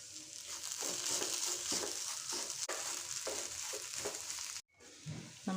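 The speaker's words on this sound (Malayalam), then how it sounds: "ഇനി തേങ്ങ ഒന്ന് മൂക്കട്ടെ" Grated coconut roasts in a pan with a soft, steady sizzle, broken by repeated scraping stirs and a brief pause near the end.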